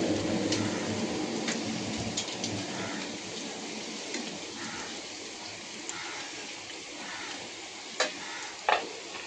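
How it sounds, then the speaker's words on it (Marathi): Puris for batata puri deep-fry one at a time in hot oil, making a steady, crackling sizzle with occasional sharper pops near the end, and no voices are heard. "आपलं तेल पण गरम झालंय. आता आपण ह्याच्यामध्ये पुऱ्या सोडूया. एकच पुरे सोडून अशा प्रकारे तळून घ्यायचं."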